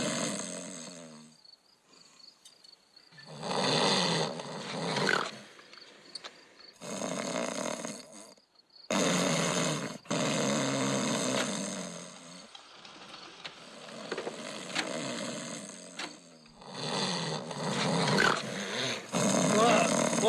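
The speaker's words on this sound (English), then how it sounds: "Any idiot can make snoring noises into a tape recorder." Snoring played back from a tape recording, loud rasping bursts that repeat in irregular cycles with pauses between them, alternating with dialogue from people talking.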